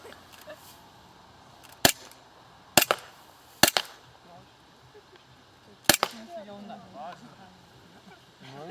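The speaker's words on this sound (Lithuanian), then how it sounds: "Dabar šaudys iš pistolės. Čia yra glokas." A Glock pistol fires at a shooting range: four sharp, loud cracks arrive at irregular intervals over a quiet background, with faint voices nearby.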